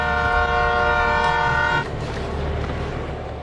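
Train rolling along a railway, its loud sustained horn blaring over the rumble of the wheels until about two seconds in, then continuing as a steady, slightly quieter rumble of rail cars.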